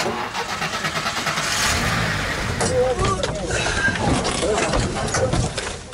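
A rescue team's truck engine starts and revs, then drives off toward a training ground, with steady mid-range engine noise under continuous talking.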